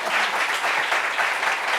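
Audience applause fills a French community meeting on leaving the family home, a dense, steady wash of many hands clapping close and loud for the whole stretch, with no voices over it.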